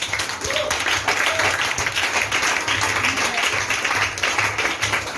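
Congregation applauding during a French-language church service, a dense, steady clapping that fills the room throughout, with voices mixed in underneath.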